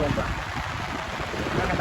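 Heavy, continuous rain falling outdoors, a dense, steady hiss with wind-like rumble throughout, with a voice faintly mixed in.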